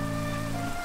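Rain falls in the Minecraft video game as a brief, soft, even patter of drops.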